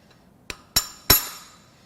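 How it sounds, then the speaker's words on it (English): A hammer strikes the salt-water-damaged lifters of a Camaro LS1 engine three times, each tap a sharp metallic clink that rings briefly, with the second and third hits louder than the first. No one talks. "I think I'm going to hit them with a hammer."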